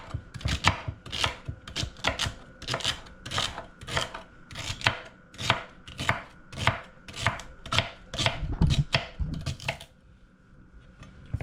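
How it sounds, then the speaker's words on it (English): A knife chops celery, onion and peppers into chunky pieces on a cutting board for pepper steak, with steady, rapid close strokes through most of the stretch before it falls quiet. "I'm gonna go ahead and chop this up. We're gonna kind of chop everything up chunky."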